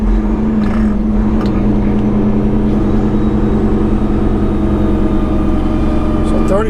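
A loaded semi truck of about 35 tons holds a low gear on a steep downhill grade, its engine droning loud and steady inside the cab while a voice talks over it.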